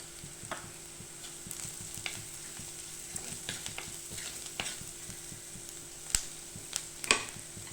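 Orange peel sautéing with salt and turmeric gives a quiet, steady sizzle, broken by light scraping and clicking stirring strokes and a few sharper knocks near the end.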